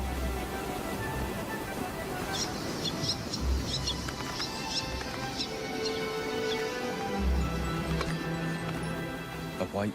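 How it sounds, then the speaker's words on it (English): White-tailed tropicbirds calling over the seabird colony on Ascension Island, a few high, whistle-like chirps standing out above a dense, busy wash of other bird cries and steady background noise. "white-tailed tropic bird."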